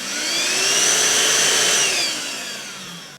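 A Grundig VCH 9832 2-in-1 cordless stick vacuum cleaner runs with a loud, close, high-pitched motor whine that holds steady, then drops in level as it spins down near the end.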